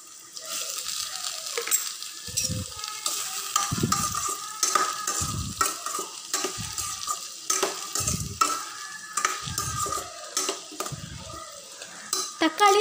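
Ripe chopped tomatoes, onions and chillies sautéing in a pan for a prawn thokku, with a steady sizzle and repeated spoon scrapes and clinks against the pan at a regular rhythm, close and clear.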